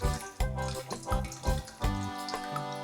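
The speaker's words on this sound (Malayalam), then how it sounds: "ഇതിന് നല്ലപോലെ വെള്ളം വരുന്നുണ്ട് കേട്ടോ" Water splashing out of a cracked tender coconut, a series of close, gurgling pours and splashes in irregular bursts, fairly faint, with no voices.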